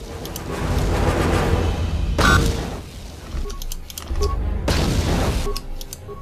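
Enemies exploding in the video game Knights of the Old Republic 2, two loud booming bursts about two seconds apart rising over a steady bed of game noise and music.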